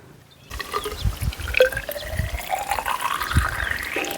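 Water from a bottle glugs and trickles into a car's windshield washer reservoir at a rainy roadside camp, a close, steady pouring with a rising fill tone and no talking.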